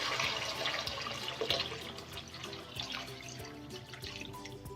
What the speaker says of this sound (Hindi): अब हम इसमें 1 लीटर पानी ऐड कर देंगे।